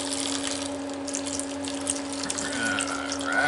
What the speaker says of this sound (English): take the peroxide, put it in the bowl, let's see, or I'm sorry, in the cup.